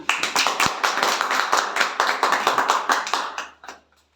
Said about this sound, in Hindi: तो जोरदार तालियां बजा दीजिए आप लोग